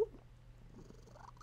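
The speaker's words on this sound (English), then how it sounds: "He's just purring away" A pet cat purrs softly and steadily, close by, in a brief, quiet moment with no talking.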